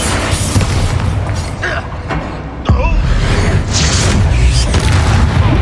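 A Bombarda spell explosion in Hogwarts Legacy, a loud deep boom bursting through dense, continuous in-game action noise with crackling debris and mechanical clatter.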